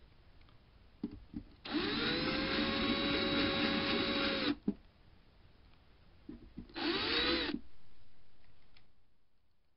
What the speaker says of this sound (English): Chamfer these holes slightly. Make sure the lacquer doesn't chip out.